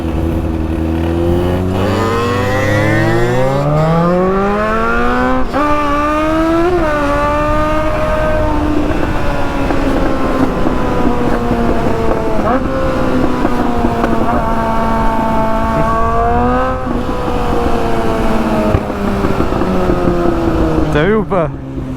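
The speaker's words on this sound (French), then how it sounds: "Je lui ai claqué une accélération" Car engine revving hard under acceleration, pitch climbing in stepped gear-like sweeps over about twenty seconds, loud and close, with voices talking throughout.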